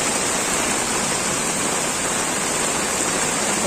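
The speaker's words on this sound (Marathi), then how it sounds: "खूप जोरात पाऊस आहे, खूप म्हणजे खूप." Heavy downpour in Virar city during the retreating monsoon, a steady dense roar of rain and runoff close by, continuous and loud with no breaks.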